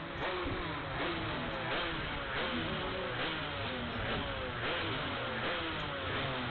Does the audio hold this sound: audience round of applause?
no